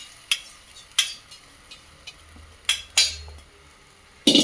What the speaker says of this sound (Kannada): ಮಂಡಕ್ಕಿ ಹಾಕ್ತಾ ಇದ್ದೀನಿ.